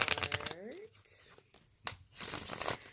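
Crisp papery riffling of tarot cards comes in several short bursts, with a brief murmur of a voice early on.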